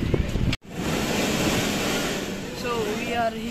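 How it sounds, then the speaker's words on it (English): Sea waves crash and splash against rocks at a beach in Salalah, Oman, during the khareef season, a loud, steady surf roar with wind buffeting the microphone and a brief cut early on. "the water will splash you, it will hit the mountain and it will splash you"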